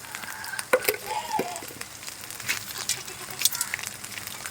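Chicken browning in a pan with turmeric, salt and bay leaf, a soft crackling sizzle with scattered pops and stirring scrapes, close and moderately loud.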